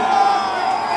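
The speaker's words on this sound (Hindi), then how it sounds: "जोरदार तालियां।" Crowd cheering and whooping at a live stage show in Kolkata, a loud, close roar of many voices with a sustained bright tone running through it, short and continuous with no pause.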